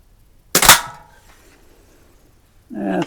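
A single sharp shot from a Crosman 140 .22 pellet rifle striking a can at seven yards, a loud crack with a brief ringing tail, followed by quiet and then a muffled rustle.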